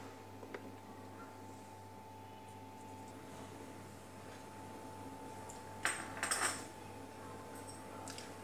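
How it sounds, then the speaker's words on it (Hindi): A tawa griddle set down on the stove rings with a few light metallic clinks and a short clattering knock, quiet against a low steady hum. "इसके लिए हम तवा रखेंगे"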